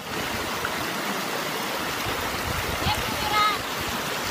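River water flows steadily in a continuous broadband rush at Nasugbu, a close, even wash of a stream with a few faint higher chirps or squeaks above it.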